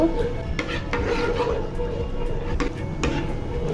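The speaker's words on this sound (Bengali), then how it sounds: "এখন আমি সবগুলো উপকরণ খুব ভালোভাবে মিশিয়ে নিচ্ছি, মিশিয়ে জাল দিয়ে নিব।" Mango milk pudding mixture with agar agar being stirred in a pot, a steady scraping and rubbing of a spoon against the pan with a few sharper knocks, close and fairly loud, with no voices.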